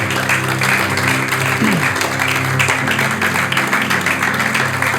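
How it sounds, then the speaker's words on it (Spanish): A church congregation bursts into sustained applause and clapping, a dense steady wash filling the room with organ or keyboard tones held underneath throughout. "Démosle un fuerte aplauso a nuestro Señor."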